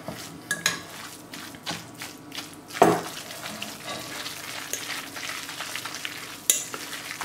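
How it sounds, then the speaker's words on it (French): A utensil stirs and shreds rabbit rillettes with rosemary in hot broth and melting butter, giving soft wet scraping and sizzling with scattered clinks against the pot, plus one sharper clatter midway and another near the end. "Et on continue à mélanger pour effilocher."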